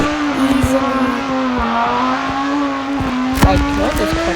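A fast car in a Roblox game driving at a steady, loud engine drone with a sustained tone and small pitch shifts, a sharp burst near the end, no talk over it.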